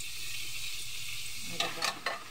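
Onion and garlic sautéing in a pan for home-style ginisang upo with sotanghon, a soft, steady sizzle with a few brief scraping stir strokes near the end.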